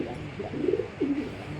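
Racing pigeons, a big female among them, coo in a low murmuring pattern, two short rolling coos standing out over a steady, close background hum.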